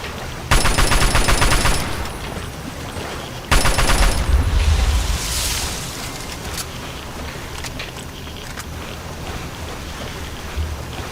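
Rapid rifle fire from the backwater rifle in Fallout 3 rattles out in two loud sustained bursts, one after the other, followed by softer scattered shots and a windy ambient rumble.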